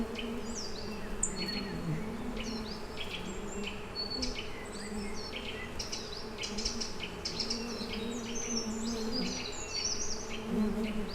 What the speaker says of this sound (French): on perçoit la présence d'abeilles sauvages dans les environs